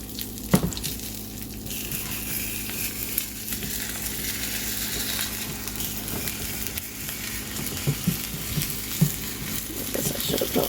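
Eggs and bacon frying in a pan for a budget bacon egg sandwich, a steady low sizzle with a few scraping stirs and occasional pops, close up and without talk.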